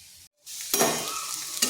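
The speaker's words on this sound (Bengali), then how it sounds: "ওদিকে উচ্ছেটা ভাজা হোক" Pieces of bitter gourd fry in oil in a pan, a brief silence giving way to a close, steady sizzle with stirring scrapes and a fresh burst of hissing near the end.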